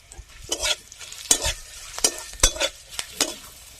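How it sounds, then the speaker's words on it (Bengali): Curry leaves and green chilies fry in mustard oil while a spoon stirs the pan in repeated scraping strokes, about six distinct stirs over a soft sizzle, close and moderately loud with no talking. "কারি পাতা আর কাঁচা লঙ্কা একটু ভেজে নেবো।"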